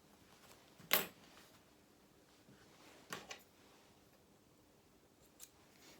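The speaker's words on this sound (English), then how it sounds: "we're also going to just snip through the threads that just jumped over that gap that we left" Scissors snipping sewing threads on fabric, a few isolated crisp snips spaced seconds apart, close but quiet, with a faint rustle between cuts.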